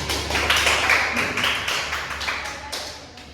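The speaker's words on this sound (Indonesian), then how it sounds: "Beri aplaus dulu." Classroom audience applauding after a student group's presentation, a steady patter of many hands clapping at moderate volume for a few seconds.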